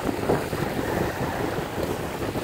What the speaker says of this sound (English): The wind's blowing about 15 miles an hour, maybe better.